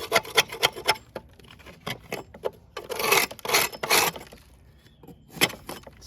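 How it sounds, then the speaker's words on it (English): A scraper works the inside of a Troy-Bilt TB110 lawn mower deck with a Briggs 550EX engine, rusty underneath, making close rough rasping strokes in uneven bursts with a few sharp scratches between them. "let's scrape this thing out"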